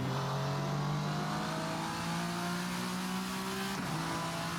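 A VRC Vendetta V60 race car in Assetto Corsa running with its turbo, the engine revving steadily and climbing in pitch, loud and continuous, with a brief shift near the end.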